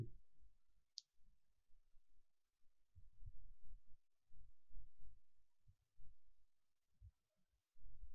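A single sharp mouse click sounds early on, faint and close, over a quiet background of low, soft thumps.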